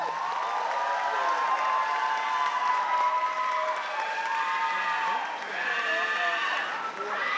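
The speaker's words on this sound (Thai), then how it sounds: "ขอเสียงปรบมือดังๆให้กับทุกท่านที่เป็นผู้เข้าประกวดในปีนี้ครับ" An audience claps for contestants at the Miss Grand Thailand 2023 crown launch event, a sustained dense round of applause with voices and cheering woven through it.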